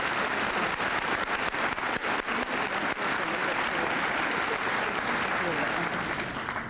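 Audience applause at a senior student assembly, a dense, steady wash of many hands clapping that holds strong for the full stretch without letting up.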